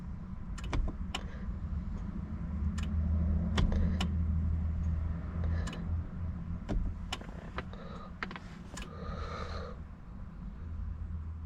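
A 2018 Honda CR-V's starter cranks on a weak battery, a low sluggish whirring drone held for several seconds, with sharp clicks and relay ticks scattered across the clip.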